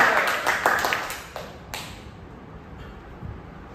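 A brief burst of hand clapping from a classroom of pupils fades within about two seconds, leaving quiet room noise.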